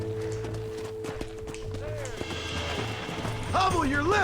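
Horse hooves clip-clopping at a steady walking pace in the Red Dead Redemption video game, mixed under game music and a voice that joins toward the end.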